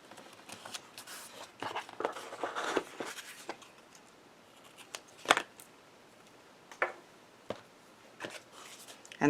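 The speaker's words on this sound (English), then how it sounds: "And then just trimming it off." Scissors trim a layer of polka-dotted blue cardstock for a handmade card, giving scattered, quiet snips and paper rustles with a few sharper cuts between soft handling noises.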